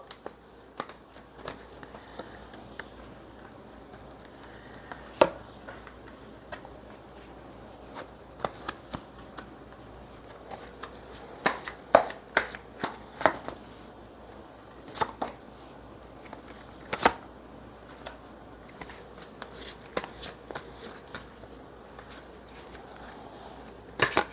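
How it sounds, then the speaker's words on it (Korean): Tarot cards being shuffled and drawn, quiet crisp riffles and sharp snapping flicks arriving in irregular bursts, close and fairly soft with no talking. "우리 3번님 카드 뽑아볼게요."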